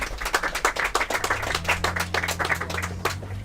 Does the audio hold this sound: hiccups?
no